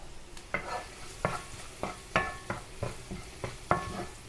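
Turmeric and spices frying in a pan for Mumbai vada pav, with rhythmic scraping stirs about every half second over a soft, constant sizzle.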